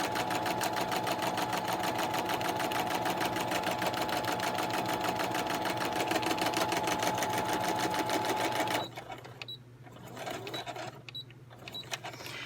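A sewing machine stitches across the bottom of a paper envelope in a craft project, a loud, continuous, rapid mechanical whir for about nine seconds that then drops to quieter handling sounds.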